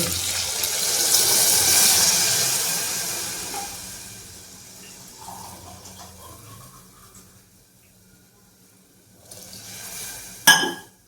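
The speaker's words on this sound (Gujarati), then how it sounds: "સીધું જ પાણી નાખી દેવાનું છે" Water is poured into a stuffed brinjal and potato curry in a cooker, giving a rushing, splashing pour loudest early on that thins out, followed by a brief clatter near the end.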